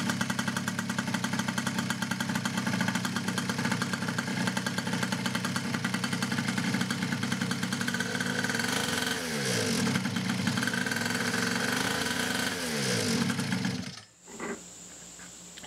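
A small engine fitted with a centrifugal clutch runs steadily and loudly at close range, its speed rising and falling briefly near the end before it cuts off abruptly and falls almost silent.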